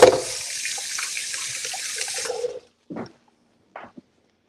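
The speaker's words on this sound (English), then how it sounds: "Wash my hands." Hands are washed under a running kitchen tap: a steady stream of water splashes for about two and a half seconds, then stops, followed by two brief, quieter splashes or drips near the end, with no talking.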